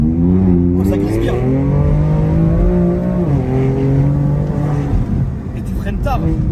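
A car engine and exhaust roar steadily from inside the cabin while driving, the revs climbing and dropping in smooth pitch sweeps, loud but not deafening, with a voice speaking over it.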